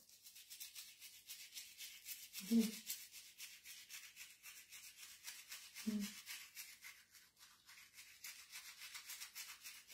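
Close, rapid back-and-forth scrubbing of a toothbrush on teeth runs steadily throughout, with two brief low thumps partway through and no talking.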